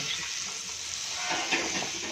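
A loud, constant hiss of hot oil tempering with garlic and Kashmiri chilli sizzling in a pan, close and steady with no talking.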